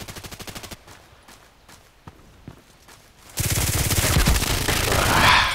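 Gunfire in the video game Contract Wars, a rapid automatic burst, then a few scattered single shots and steps, then a long, loud sustained stream of fire.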